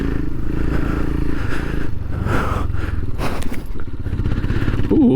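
A 40-horsepower Royal Enfield Himalayan 462cc motorcycle being ridden, its engine droning loud and steady at close range, with wind rush and some rattling over the throughout.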